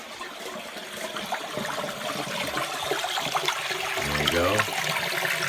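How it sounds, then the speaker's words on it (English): Water gushes steadily from a sump pump discharge hose during spring flooding, a loud continuous rushing and splashing close by, with someone briefly speaking near the end. "There's the water pouring out. It's a lot of water."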